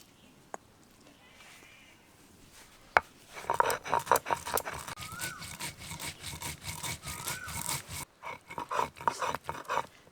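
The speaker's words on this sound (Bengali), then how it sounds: "মশলাগুলো এখন বেটে নেব" Cumin, dried chillies and coriander are ground into a paste by hand as a rhythmic, rasping scrape, close and moderately loud. It starts after a couple of sharp knocks and runs in repeated strokes with short pauses.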